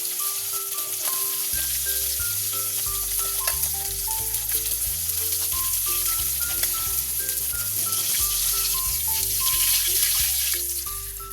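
Fried rice sizzles and fries in a pan with a constant hissing crackle, heard under louder background music with a melody and bass line running the whole time.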